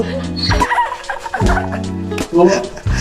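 A voice imitates a turkey's gobble, a few bursts of warbling, throaty calls with short pauses between, close and loud.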